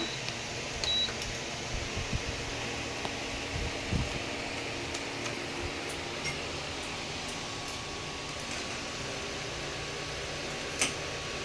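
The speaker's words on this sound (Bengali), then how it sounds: "এবার আমি ইন্ডাকশন ওভেনটাকে চালু করছি।" An induction cooktop is switched on in a home kitchen while a palm-fruit rice pudding is being made. One short, faint electronic beep comes early, then a steady fan hum runs throughout with no talking.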